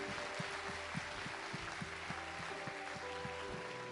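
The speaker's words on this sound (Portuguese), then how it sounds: "Uma salva de palmas para o Senhor" A church congregation claps in a steady, even rhythm, roughly two claps per second, over sustained music tones and a constant room wash.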